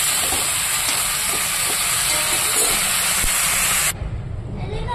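Bottle gourd fries with turmeric and salt in a pan, giving a loud, steady, hissing sizzle that cuts off sharply near the end, leaving a quieter low bubbling.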